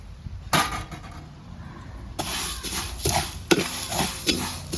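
Dry vermicelli strands rattle and scrape in a hot pan as they are stirred and roasted, giving a sizzling, clinking texture with uneven, repeated stirring strokes.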